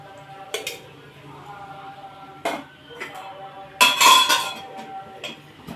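A kadai pan is set down on the stove with sharp metallic clinks and clatters, then a spoon taps as oil is added, several bright knocks standing out from a quiet kitchen background.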